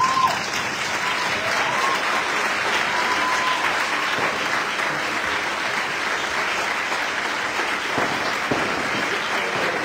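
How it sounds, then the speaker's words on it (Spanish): Audience applause for a fallas and hogueras workshop crew at a farewell event, a dense, steady wash of many hands clapping that holds at full loudness throughout with no gaps. "que la gente os quiera aplaudir a vosotros"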